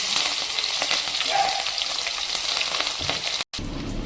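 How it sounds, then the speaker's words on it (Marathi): Garlic and green chilies hit hot oil already holding mustard seeds, cumin and curry leaves in a tempering for dal dhokali. They sizzle loudly and steadily, with a brief stir and clatter near the end. "आता लसूण आणि मिरच्या टाकून देऊ."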